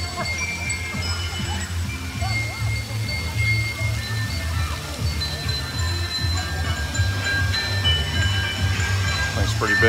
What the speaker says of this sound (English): This is a sweet little water park